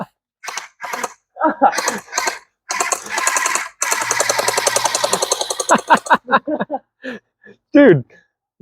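Gel blaster toy guns fire gel bullets in rapid bursts of sharp clicking pops, with one long sustained stream of shots in the middle, mixed with excited voices talking over the shooting.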